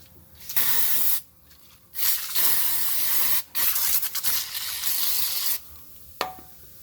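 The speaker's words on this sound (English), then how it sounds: "And you spray these suckers." An aerosol spray can blasting insecticide onto black widow nests under a car, several loud hissing bursts of a second or more each, separated by short quiet gaps, close up.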